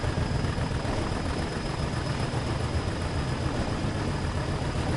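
Diesel locomotive at full throttle hauling a 1,800-ton heavy oil train in Train Sim World, a constant loud low engine roar with a steady high whine, droning evenly throughout without talk.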